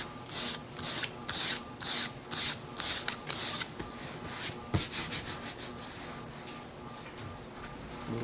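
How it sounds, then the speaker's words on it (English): Ultra sand paper of 600 or 800 grit rubbing gently over leather during a rip repair, a run of soft rhythmic scratchy strokes close up, followed by quieter, lighter rubbing. "You would take your 600 or 800 grit ultra sand and you would just gently just sand it down so it's smooth."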